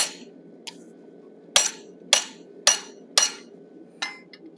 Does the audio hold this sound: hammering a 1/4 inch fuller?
yes